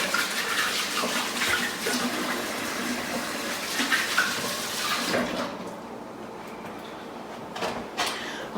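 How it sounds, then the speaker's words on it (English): Tap water runs steadily into a kitchen sink while hands are washed, splashing and then easing off, with a few soft clatters near the end. "Wash my hands real quick."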